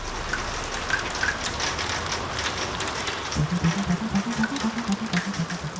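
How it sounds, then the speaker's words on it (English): Steady rain hisses down on surfaces as a storm subsides, a constant even wash with a low murmur rising near the end. "the storm starts to subside"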